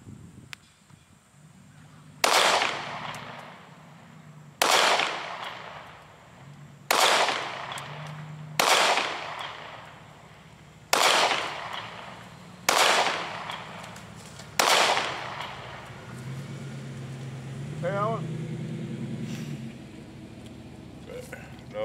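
Walther PPS Mod 2 pistol fired at an indoor range from 7 yards: seven loud, sharp shots, each about two to three seconds apart, with short reverberant decays and steady background hum between them.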